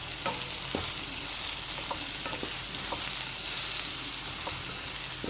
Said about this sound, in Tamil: மஞ்சத்தூள் பார்த்தீங்கன்னா ஒரு கால் ஸ்பூன் சேர்த்து இந்த எண்ணெயிலேயே அதையும் நல்லா பரட்டி விட்டுருங்க